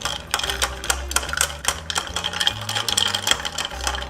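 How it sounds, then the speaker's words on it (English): An Old Fashioned cocktail is stirred in a glass with Angostura bitters, giving a rapid, rhythmic series of light clicking and clinking taps over soft background music. "And now let's stir this up for about 30 seconds."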